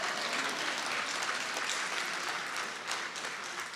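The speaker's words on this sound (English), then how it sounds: "That's an applause line." An audience at a ribbon cutting ceremony applauds, a dense steady wash of clapping from a large crowd that holds evenly throughout with no voices on top.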